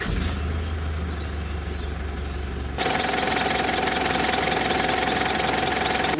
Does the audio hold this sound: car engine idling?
yes